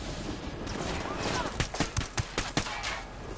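Gunfire in Tom Clancy's Wildlands: a string of sharp, separate shots cracks out in a quick irregular rhythm over a steady background, with a faint voice in the mix.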